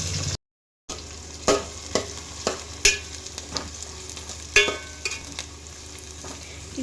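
Chopped onion dropped into hot oil with mustard seeds, cumin and green chili for kadle puri huslii, sizzling steadily while a spoon stirs and scrapes the pan in several distinct knocks; no talking.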